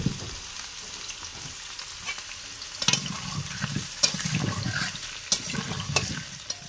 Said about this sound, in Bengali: একদিকে আলু ভাজা আর একদিকে গরম জল